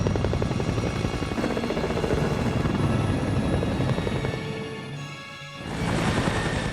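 A helicopter hovers close overhead during a film car chase, its rotor chopping in a loud, steady pulse that briefly dips and then surges back, with no talking.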